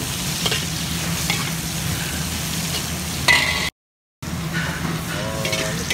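Onion frying in a pan while being stirred: a steady loud sizzle with scraping stir strokes, a brief clatter and a short cut-out midway, then sizzling resumes with faint background sounds.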